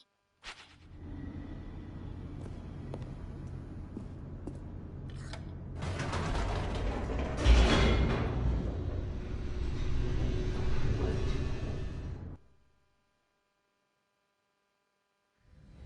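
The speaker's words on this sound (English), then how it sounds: "The elevator raced downward, plummeting towards an unknown fate" Elevator plunging rapidly downward in The Stanley Parable: Ultra Deluxe, a steady mechanical rumble and rattle that swells and grinds for about twelve seconds before cutting off to silence.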